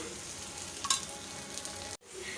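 Rava dosa fries in oil on a pan over a medium flame, a steady close sizzle and crackle with a brief stirring rustle, and no talking.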